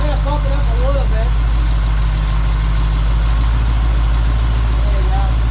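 Steady close idle of a car engine running on a newly fitted rebuilt Holley carburetor, a constant loud low rumble whose pitch drops slightly partway through as the idle is adjusted.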